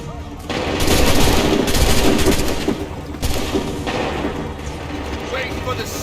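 Heavy sustained gunfire erupts after an order to open fire, dense automatic bursts and booms rolling on for several seconds, loud and close, with shouting voices mixed in.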